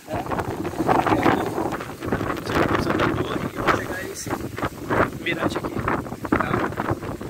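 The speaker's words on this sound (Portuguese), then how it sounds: "tá ventando muito, muito, muito mesmo" Strong gusting wind at a hilltop lookout in Parque da Serra da Capoeira Grande, roaring and buffeting the microphone continuously while someone speaks over it.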